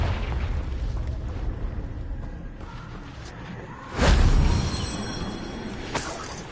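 In Hogwarts Legacy, the Confringo blasting spell fires with a whoosh and lands in a sudden loud booming explosion midway, then fades into a rumbling tail over quiet game ambience.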